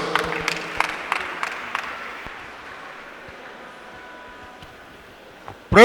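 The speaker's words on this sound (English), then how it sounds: "Clap for Dr. Jesus." Several sharp claps ring out at an irregular pace during a church live stream, then fade into a quiet, reverberant room with a faint hum, and a sudden loud burst lands at the very end.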